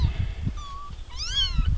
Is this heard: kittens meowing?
yes